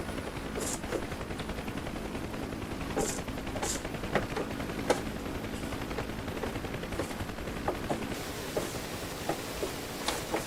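Rapid bursts of minigun fire from a UH-1H Huey helicopter in the DCS combat flight simulator, repeated short crackling volleys over a steady rotor and engine drone, no voices.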